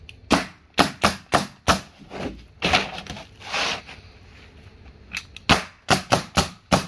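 A pneumatic roofing nail gun firing in quick bursts, sharp loud cracks in clusters of three or four with a brief hiss of air between, close by and with no talk.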